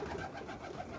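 Roller pigeons coo steadily inside a loft, soft, continuous burbling calls filling the space at close range with no talk over them.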